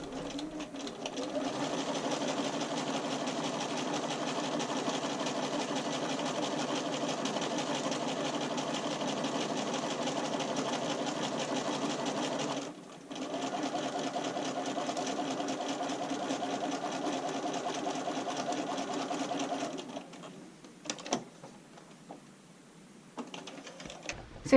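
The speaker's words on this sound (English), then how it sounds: "bring this over to the machine and sew it on with a 1/4 inch straight stitch" A sewing machine runs a steady 1/4 inch straight stitch through sheer fabric, a continuous close whir with one brief pause partway, then stopping into quieter handling noises near the end.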